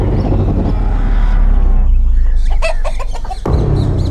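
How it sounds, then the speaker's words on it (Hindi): A rooster clucks in short, loud, choppy bursts against a steady roar of background noise, its calls rising briefly near the end before the rumble takes over again. "इसमें जो मुर्गा है ना, ये मेरे खाने का स्वाद बढ़ाएगा।"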